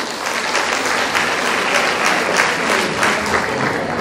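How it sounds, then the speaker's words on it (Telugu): Loud, dense applause from a large crowd, sustained and even throughout with no pauses, close and filling the space. "ఒకసారి గట్టిగా క్లాప్స్ కొట్టాలి."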